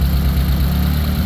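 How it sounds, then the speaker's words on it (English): Ford Focus ST engine idling steadily, close up, a continuous low rumble with a fairly even, slightly pulsing tone throughout the short stretch. "You can also hear it in the engine."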